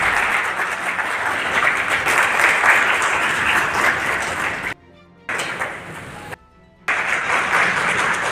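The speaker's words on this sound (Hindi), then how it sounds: "तालियां तो बजाओ भाई" Sustained loud applause from an audience at a college seminar in Niwari, dense and even, broken twice by brief total silences before resuming.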